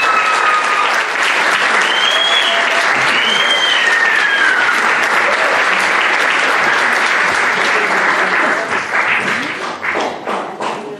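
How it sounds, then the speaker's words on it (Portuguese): Loud, sustained applause fills a hall after a Christmas concert, thick with many hands, with a few whistles and cheers riding on top before it begins to thin toward the end. "uma salva de palmas para ele"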